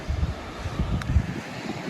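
Gusty wind buffets the microphone with low rumbling bursts, rising and falling in quick succession, outdoors in rain at Port Isaac, Cornwall.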